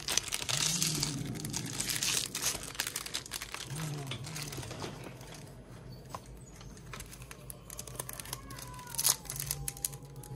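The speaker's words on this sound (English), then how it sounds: "So hard to open some of these packs." Pokemon card booster pack wrappers crinkle and tear as packs are opened, a steady close rustle with occasional sharper rips, while a voice and another voice talk over it.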